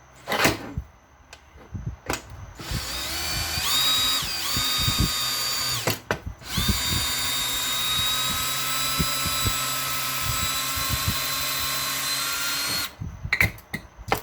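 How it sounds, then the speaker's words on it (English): A power drill whirs loudly in several runs, with a short pause and clunks between bursts, then winds down into handling noises. "So make sure your drill is still turned when you back it out."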